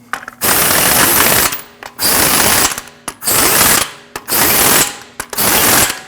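A hand ratchet snugs the wheel lug nuts on a Jeep Cherokee, five loud bursts of rapid clicking separated by short pauses, close and alone.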